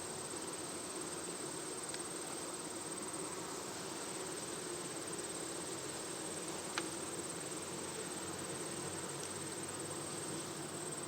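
Honey bees humming steadily around a hive in late summer or fall, a dense continuous drone with no voices, faint and even throughout.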